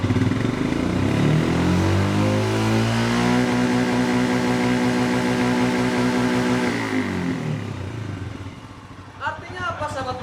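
A Royal Enfield motorcycle engine runs at a steady idle close by, its firm low thump pulsing evenly for several seconds before easing off, followed by brief talk at the end.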